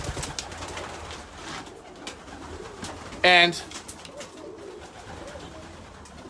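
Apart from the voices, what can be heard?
racing pigeons cooing in a loft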